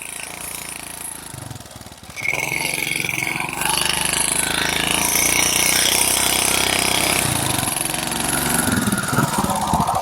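A motorcycle engine runs nearby with a steady buzzing drone that kicks up louder after a couple of seconds and keeps going, while people talk over it.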